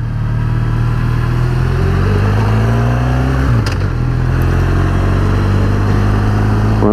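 A big, old, heavy motorcycle climbs tight alpine hairpins in first gear, its engine loud and close with a deep, steady drone that rises in pitch, dips briefly as the throttle eases, then pulls on again.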